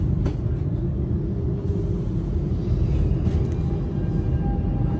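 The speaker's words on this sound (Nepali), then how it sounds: "मेट्रो हिँडिसक्यो।" A metro train pulls away from the platform with a steady, loud low rumble that holds evenly throughout and carries a faint higher whine.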